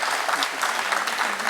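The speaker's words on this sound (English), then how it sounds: "So please give him a warm applause," A dense, steady wash of applause from a sizable audience, many hands clapping at once without pause.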